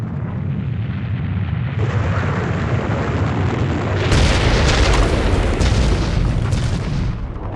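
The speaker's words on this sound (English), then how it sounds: "Always gotta end with a massive explosion." A massive explosion plays in the final cutscene of the video game Myth 2: Soulblighter. It is a loud, sustained roaring rumble that swells even bigger partway through and continues for several seconds.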